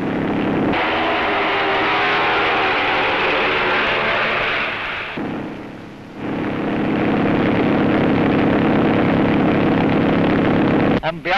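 Engines of propeller planes intended for aerial survey in Egypt drone loudly and steadily throughout, with a brief dip midway before the roar returns, apparently alongside spoken narration.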